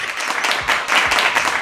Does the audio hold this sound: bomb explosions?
no